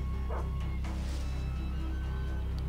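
A dog in the video game Far Cry 3 gives a few short yips and barks over a loud, steady low in-game drone, the calls fairly distant and brief with no talking.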